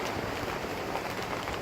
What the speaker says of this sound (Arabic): وهذه السماء تمطر كلها مطر.